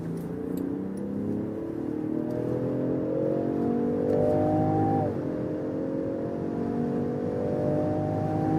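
A Range Rover Sport L461 in petrol mode accelerates hard from 50 km/h, its engine note climbing steadily through a gear, briefly dipping at a shift near the midpoint and then rising again, heard from inside the cabin.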